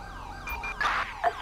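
An ambulance siren in Grand Theft Auto V wails in quick rising and falling sweeps, loud and nearby, with no voices over it.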